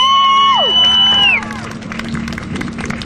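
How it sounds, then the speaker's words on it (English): Whooping and tonal cheers at a rally crowd give way to a broad wash of clapping and cheering, loud and close, with voices mixed in. "Can we get another round of applause going?"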